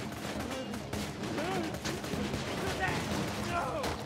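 Gunfire from the video game Borderlands 2 clatters in a dense, continuous burst of overlapping shots and explosions, loud throughout the short stretch.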